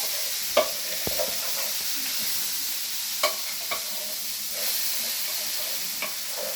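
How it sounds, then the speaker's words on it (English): Macaroni cheese being stirred in a pan at home, with a soft steady sizzle under a few scattered scrapes and knocks of the spoon, close and fairly quiet with no talking. "Give that a stir now"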